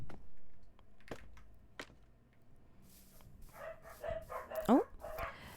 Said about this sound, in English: apologies for the doggies. They are just barking up a storm for fun